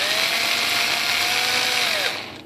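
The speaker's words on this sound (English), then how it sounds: "I got to take and drill a small little hole" Small hobby drill boring a pilot hole in a Cessna 182 micro RC model plane, a steady close high-pitched whine that holds for about two seconds before winding down, with no talking.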